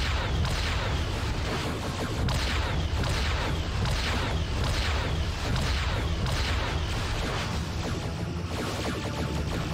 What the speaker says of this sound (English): Oh, we got multiple explosions.